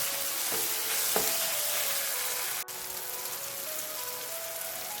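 Onion masala sautéing in a pan for a soya roast, giving a steady close crackling sizzle with a few stirring scrapes, heard alone without talk.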